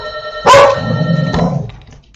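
A female dog barks loudly indoors when someone rings the doorbell, one sharp close bark followed by a lower growly second bark.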